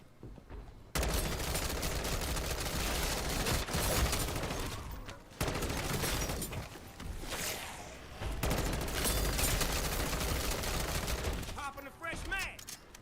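Sustained full-auto M-16 fire from a Dark Aether zombies match in Modern Warfare 3, loud dense bursts running almost nonstop with brief pauses, game effects layered in.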